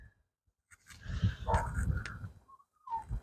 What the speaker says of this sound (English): He's just over there whimpering and crying.